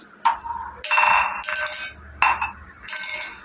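A glass of water clinks as it is set down, with several bright ringing chinks and short clattering taps spaced unevenly across a few seconds, close and fairly loud.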